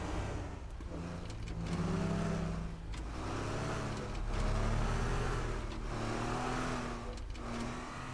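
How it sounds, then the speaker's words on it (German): Speedboat engine in the video game Teardown, a steady mid-pitched drone that rises and falls in pitch as the throttle shifts, loud and continuous throughout. "Wir steuern mal eben das Speedboot richtig da rein"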